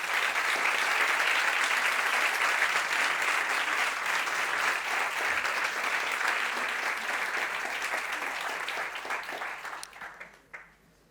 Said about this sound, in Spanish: Os voy a pedir un aplauso para ellos